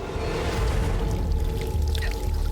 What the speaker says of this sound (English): Gasoline was just pouring out.